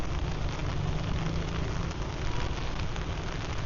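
Steady rain falls on a rainy morning in Samkong, Phuket, Thailand, a dense continuous hiss and patter close to the listener, unbroken throughout with no voices.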